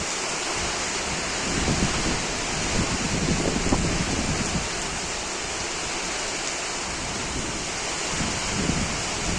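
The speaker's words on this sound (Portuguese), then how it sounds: "Olha a chuva aqui como é que tá em casa." Rain pours steadily outside a rural farmhouse on a windy morning, a dense, even hiss that holds close and loud throughout with gusts swelling it slightly, and no voices.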